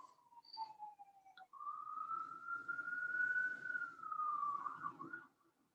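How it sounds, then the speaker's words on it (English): A distant siren wails in long, rising and falling tones, alone in an otherwise quiet setting. "there's the ambulance in the background"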